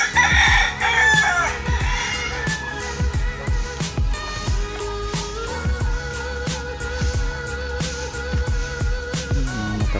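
A rooster on a farm in Botolan, rural Zambales, crows loudly and nearby, with clucking fowl and sharp repeated knocks and clatter filling the scene and no talking.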